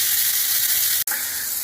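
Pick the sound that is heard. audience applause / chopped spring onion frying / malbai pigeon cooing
chopped spring onion frying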